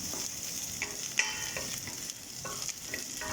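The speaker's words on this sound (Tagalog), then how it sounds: "Make it brown the garlic. After golden brown, you make the onion." Garlic and onion frying in a pan until golden brown, giving a steady moderate sizzle with occasional stirring clinks and scrapes, close up and with no voices.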